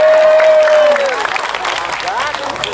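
Audience clapping and cheering at an Islamic pengajian gathering in Magetan, with a sustained sung or spoken voice over it at first, then a loud, steady crowd clapping wash mixed with voices.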